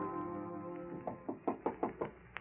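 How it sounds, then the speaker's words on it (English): A radio drama sound effect of a manager knocking at a door: five to six crisp, evenly spaced raps, close and clear, following a quiet stretch of low background. "Her manager knocks at the door."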